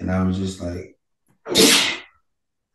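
A single loud, breathy sneeze bursts out close to the mic right after a man's speech, with a brief pause between his talk and the sneeze.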